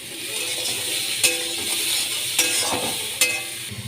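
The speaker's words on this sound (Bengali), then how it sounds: "এবার এর মধ্যে আমি আলু দিয়ে দিলাম আলু দিয়ে দিচ্ছি" Potato pieces frying and being stirred in a pan for Bengali shukto bring a steady close sizzle, broken by three sharp clinks of the utensil against the pan, with no talking.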